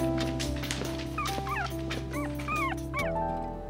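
Newborn pit bull puppies at a veterinary hospital whimper and yip in thin, rising squeaks, several short cries close by over a low steady background hum.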